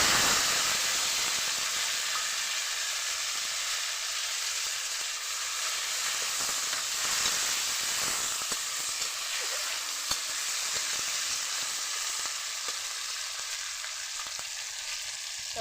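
Tomato fries in oil with bay leaves and five-spice for a vegetarian cabbage curry, giving a loud, continuous hissing sizzle close up, with faint scraping stirs mixed in.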